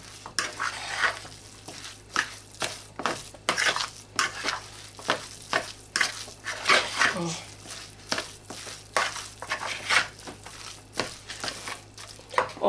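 Salmon cake mixture with three eggs being stirred in a bowl, giving a run of repeated scraping, clacking strokes at a fairly steady rhythm, close and moderately loud.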